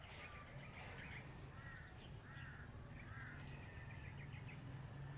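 A large bird gives repeated hoarse cawing calls in the open, faint and distant over steady background hiss and insect buzz.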